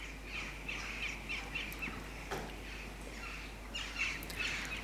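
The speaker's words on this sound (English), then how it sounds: "a couple of other jackdaws drop in" Jackdaws call outdoors around a farm yard, a series of short, sharp chirping calls at moderate distance over a low background hum, with no one talking.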